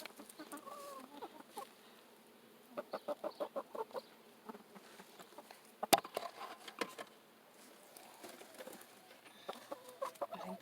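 Chickens cluck in short, irregular bursts, close by, with a sharp knock partway through and a faint buzz of insects in the background.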